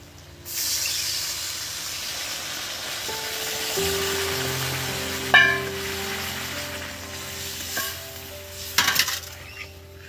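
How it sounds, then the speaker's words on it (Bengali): Water poured into a sizzling pan of mutton-style potato curry sets off a sharp hiss that settles into a steady steamy bubbling, with a few clinks and stirring knocks. "এর সঙ্গে আমরা জল দেবো এবার"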